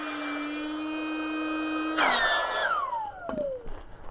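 An electric pump inflating a Sea to Summit sleeping pad hums steadily, then its pitch drops and slides downward as it strains and stops, followed by a few short rustles.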